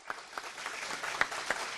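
Audience applause at a nature perspectives seminar, steady crowd clapping with a few louder individual claps standing out, heard alone and moderately distant for under two seconds.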